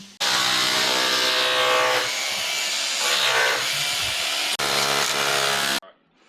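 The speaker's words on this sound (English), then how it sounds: "So we hammer drill and tap con into the floor." A loud, steady hammer drill grinds and whines into a concrete basement floor for several seconds, pausing briefly before continuing, then cutting off.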